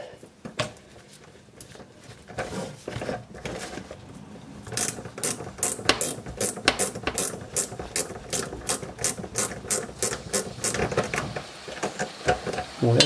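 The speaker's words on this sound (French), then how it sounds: "Une clé à cliquer, c'est bien." A ratchet wrench clicks in quick, rhythmic bursts while a Renault Twingo 1 rear brake is being replaced. The clicking is close and gets faster and steadier toward the end, with faint handling noises in between.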